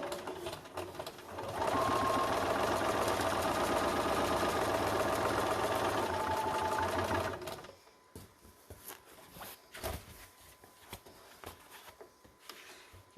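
A sewing machine stitches a concealed carry belly band at a long stitch length near the fabric edge, running steadily and close for about six seconds, then stopping, followed by quiet handling noises.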